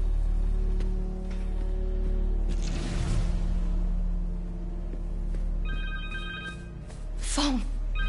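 A cell phone rings in Spider-Man 2 on PS5, a bright electronic ringtone that comes in near the end over a steady low game background hum.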